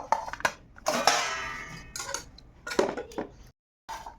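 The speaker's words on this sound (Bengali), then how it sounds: "প্রথমে গরম গরম ভাতটা বেড়ে নিই" Hot rice being served onto a plate at a home meal, with a few separate bursts of spoon scraping and clinking against the dish, close and fairly quiet, broken by short pauses.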